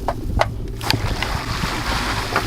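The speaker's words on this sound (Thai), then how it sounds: "ผมจะเปิดวาล์วน้ำให้ดูนะครับ" Water rushes out of an opened valve on the tank of a solar-powered AC 220V deep-well pump drawing from 50 metres, a steady close gushing hiss with a few clunks at the start.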